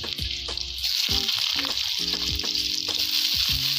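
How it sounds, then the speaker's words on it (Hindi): Potatoes dropped into hot oil for a village-style potato and soybean curry, a loud bright sizzle that holds steady, with occasional clinks and stirring underneath. "देखिए अब आलू को डाला जा रहा है"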